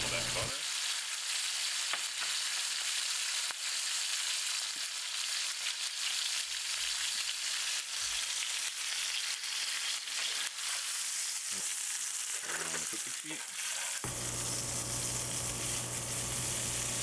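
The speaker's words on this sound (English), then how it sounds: "Both sides are seared. Now we're really trying to get that good butter flavor." Steaks searing in butter in a hot pan, a steady loud sizzle and crackle running the whole time with no talk, shifting tone near the end.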